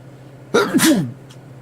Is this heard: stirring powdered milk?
no